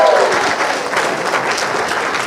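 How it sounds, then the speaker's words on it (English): Wedding guests at a reception clap for the newly married bride and groom, a loud, steady burst of close applause lasting a couple of seconds. "Can I get a round of applause for the bride and groom?"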